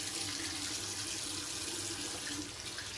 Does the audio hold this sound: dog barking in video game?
no